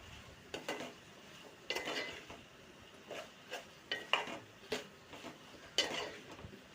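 Intermittent scraping and clinking of a spoon stirring milmaker and drumstick curry in a pan, a dozen or so short soft strokes at an uneven rhythm, close and fairly quiet with no talk.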